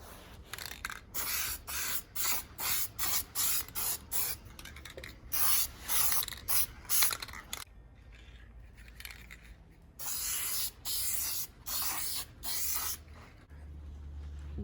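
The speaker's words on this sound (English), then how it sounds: "we got 2 coats of paint on this one" An aerosol spray can paints a Cadillac Escalade LQ9 6-litre V8 engine during a rebuild: about a dozen short, close hissing bursts in a steady rhythm, a brief pause midway, then more bursts, with no voices.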